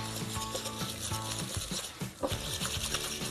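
Butter and sugar being whisked together in a bowl give a brisk, rhythmic scraping and clicking, close and fairly loud, repeating steadily for a few seconds with no voice.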